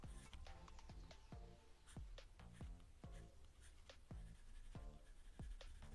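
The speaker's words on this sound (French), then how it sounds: "je vais prendre un Sharpie et donc je vais marquer quelque chose" A Sharpie marker scrawls on a card during a card trick: a quiet run of short, squeaky strokes in an uneven rhythm, close to the microphone and alone, with no talk.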